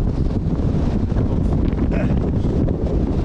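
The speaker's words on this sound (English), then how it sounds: "very windy up here" Strong wind on a Scottish mountain summit, part of the Beinn Dearg Munros, buffets the microphone in a loud, continuous roar with gusty swells and no break.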